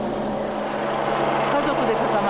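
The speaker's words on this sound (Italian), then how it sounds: "Gli elicotteri stanno prestando soccorso ai sopravvissuti" Rescue helicopters fly over a landslide disaster area in Hiroshima, Japan, a steady whirring rotor drone throughout, with a voice talking over it.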